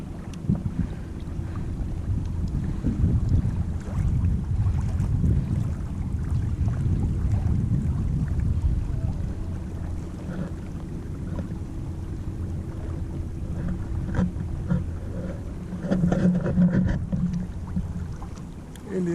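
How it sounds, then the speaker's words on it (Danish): Small dinghy motoring across open water, with a steady low rumble of engine and hull, wind buffeting the microphone throughout, and a brief rise of splashing near the end. "Så er vi ude på vores første dinghy ride"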